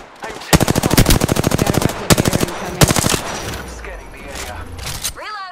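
Video-game gunfire in bursts: rapid automatic rattles, a short volley, then another burst, fading into quieter ambience with a brief whooshing sweep at the end.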